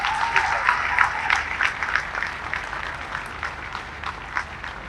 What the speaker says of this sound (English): We must all give the graduating classes a big round of applause.